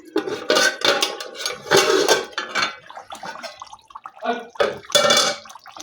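A metal lid comes off a pot of desi chicken simmering with potatoes, giving close clattering knocks and scrapes of metal on metal, with some voice underneath.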